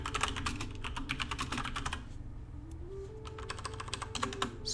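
Rapid, continuous clatter of keys on a computer keyboard, typed at speed close up, with a brief lull midway before the quick keystrokes resume, over a low steady background hum.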